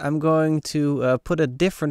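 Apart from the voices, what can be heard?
No distinct noise like a dog, phone or traffic.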